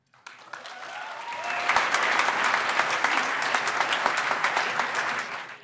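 Applause from an audience at a homebuilding awards gala swells from a few claps into a sustained, even ovation, then begins to taper at the end.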